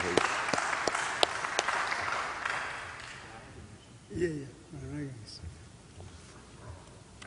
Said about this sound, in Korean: 박수로 한번 맞아주시면 감사하겠습니다